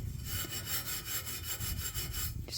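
Steel wool or a Scotch-Brite pad rubbed across the metal grate of a Blue Star grill after cooking steak, giving a close, steady scratchy rasp in quick repeated strokes.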